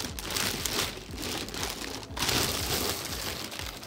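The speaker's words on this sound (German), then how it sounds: "Erstmal ab mit die Tüten-Dinger hier." Plastic bag packaging is pulled off a gadget during unboxing, giving a steady, close crinkling and rustling that runs throughout with brief pauses.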